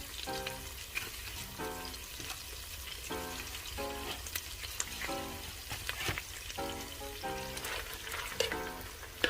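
Vegetables cook in sausage and bacon fat for a Zuppa Toscana-style soup, with a faint, even frying crackle and sizzle throughout and soft intermittent stirring sounds.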